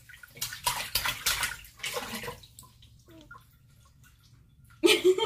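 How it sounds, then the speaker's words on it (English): Bath water running for a baby's bath, a broadband splashing rush in several bursts during the first two seconds, fading to near quiet, then returning loudly at the end. "my baby is now going to take bath"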